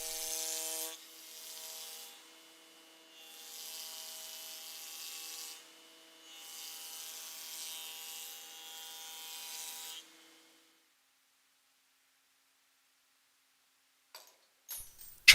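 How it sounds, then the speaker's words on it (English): A Felder jointer planes wood in a workshop, with a steady whirring hum and bursts of rushing cutting noise as boards pass over the knives, then the machine spins down to silence, followed by a few faint clicks. "we will use the jointer"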